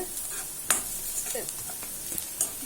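Onions sautéing in a pan for radish thokku, a steady sizzle and hiss with scattered scrapes and clicks of stirring.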